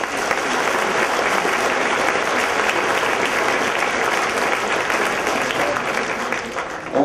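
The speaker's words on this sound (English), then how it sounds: "you have to give a round of applause for those guys right there" Sustained, even applause from a crowd at an Eagles team awards event, a thick wash of many hands clapping at steady volume for several seconds.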